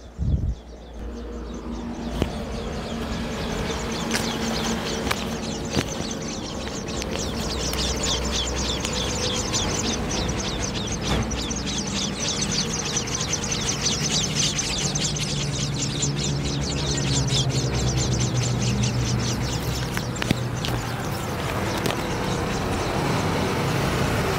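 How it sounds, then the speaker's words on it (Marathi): Dense, constant high-pitched chirping of sparrow chicks in a nest, partly masked by a steady roar of passing road traffic. "चिमण्या खूप म्हणजे पिल्लांचा खूप जास्त आवाज येतोय, तुम्हाला ऐकवते घरटेमध्ये."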